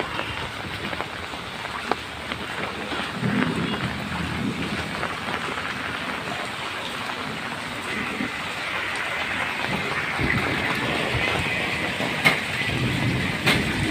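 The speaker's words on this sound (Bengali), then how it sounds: "প্রচুর বৃষ্টি হচ্ছে" Heavy rain pours down steadily during a flood, a dense, continuous hiss of drops on surfaces lasting the whole stretch with a few sharper splashes, no voices.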